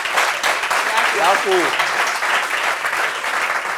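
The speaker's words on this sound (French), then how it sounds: "applaudissements pour cette histoire" Television studio audience breaking into applause at the close of a talk-show story, a dense, even wash of clapping throughout, with a host's voice speaking over it briefly.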